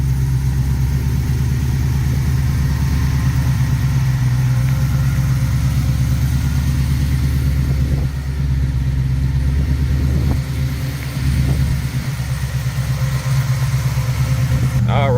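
A supercharged stroked LS V8 in a 1970 Chevrolet C10 pickup idles steadily and loudly up close, with a deep, even low rumble and a couple of slight blips near the end.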